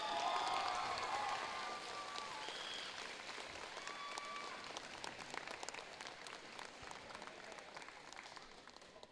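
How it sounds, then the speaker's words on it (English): A crowd at a robotics league tournament gives the competing teams a round of applause, a loud wash of many hands at first that thins into scattered, softer clapping before fading. "Let's hear it with a big round of applause for all the teams competing today."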